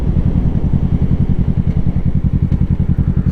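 A motorcycle engine runs close and loud with a steady, rapid mechanical pulse as the rider pulls the clutch in, the engine note holding even with no one talking.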